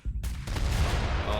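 Portuguese port mortars fire in a strategy video game: a sudden booming blast opens into sustained low rumble and crackling impacts, close and fairly loud.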